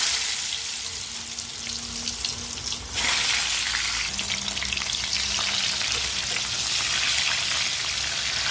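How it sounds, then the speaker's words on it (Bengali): Pointed gourd (potol) rubbed with salt and turmeric drops into hot oil and fries with a loud, continuous sizzle and crackle close up, surging after a few seconds as more pieces hit the pan. "ভালো করে পটলগুলোকে ভেজে নিতে হবে"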